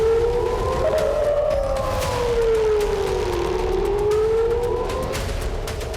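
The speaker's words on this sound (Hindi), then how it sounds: "इजराइल के 5 शहरों में बजा तबाही का सायरन।" An air raid siren wailing over an Israeli city during missile and drone attacks, a loud, sustained tone slowly rising and falling in pitch over steady background noise, with no talking.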